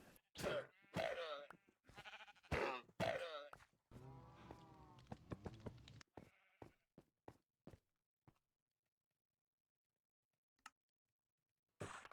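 Minecraft sheep give several short bleats in quick succession, mixed with a low grunt and blocky game footsteps, then the sound thins to sparse isolated clicks and near silence.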